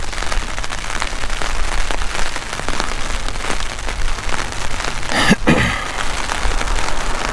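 Heavy rain pours down in a dense, steady hiss of drops pattering on surfaces close by, with one sharp crackling burst partway through.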